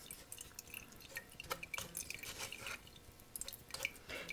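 Kefir strained through a sieve to separate the grains gives soft, faint wet drips and squelches, close and quiet, in an irregular patter.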